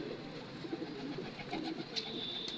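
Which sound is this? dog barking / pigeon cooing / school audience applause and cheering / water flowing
pigeon cooing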